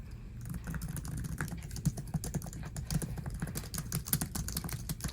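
Fingers type on a MacBook laptop keyboard, a rapid, continuous patter of crisp, close key clicks at an irregular pace, with no voice.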